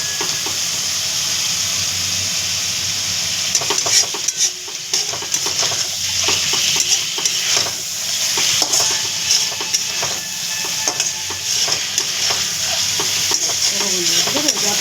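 Eggs fry with spices in a pan, giving a steady close sizzle and hiss broken by repeated scraping stirs of a utensil.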